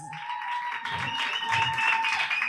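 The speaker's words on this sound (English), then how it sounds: "Can we just give him a round of applause?" A room of audience members claps for a newly introduced guest, a dense patter of hands filling the short stretch and holding steady, with a faint sustained tone running under it.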